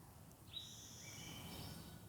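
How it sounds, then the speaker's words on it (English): A faint, distant Swainson's thrush song with a few high, fluting phrases drifting over a quiet outdoor background. "Hey, you can hear my favorite bird. That's the Swainson's thrush."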